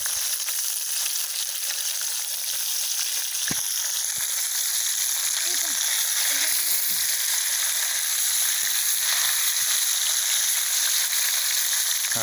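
Fish frying in hot oil gives a steady, loud sizzle with a dense crackling hiss throughout, and a few faint knocks partway through; no one speaks.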